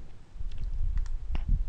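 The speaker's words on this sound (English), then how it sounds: "Just start clicking around." Computer mouse clicking while working in Photoshop: a scattering of sharp, close, single clicks at irregular intervals over faint low room noise, with no voices.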